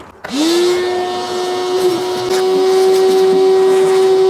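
A Hyundai HYVI10030 wet and dry vacuum starts up on a single motor, rising quickly into a loud, steady whine with a strong sustained tone that holds evenly for several seconds, with no talk over it.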